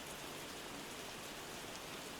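Quiet, constant rain, a smooth hiss of falling drops spread evenly across the whole stretch, distant and soft with no speech.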